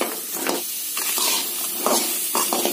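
Chopped radish frying in a kadai over a medium flame, a soft continuous sizzle and hiss with small crackling bursts and occasional stirring scrapes, close and moderately loud.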